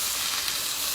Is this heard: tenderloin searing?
yes